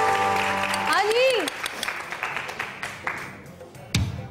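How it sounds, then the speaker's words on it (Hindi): A television studio audience breaks into applause after a voice fades, a burst of clapping that thins into scattered claps and then swells briefly again near the end. "तीरों के लिए तालियां।"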